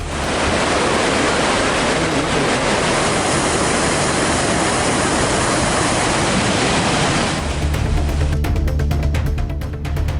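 Thirupparappu waterfall in Kanyakumari, with tourists bathing, gives a loud, steady, full roar of falling water throughout, shifting in texture near the end, with no voices standing out.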